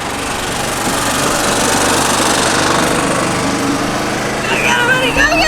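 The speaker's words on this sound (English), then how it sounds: "I'm gonna race the golf cart, okay?" A golf cart engine drives steadily alongside a sailboat setting, with a continuous buzzing motor hum throughout and loud wind or movement noise, with faint voices near the end.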